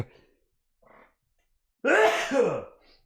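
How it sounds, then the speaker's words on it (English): A single sharp sneeze from a man streaming live, preceded by a few faint breaths, then a loud, close, explosive burst with a brief tail, heard alone with no talk over it. "Oh, I gotta sneeze"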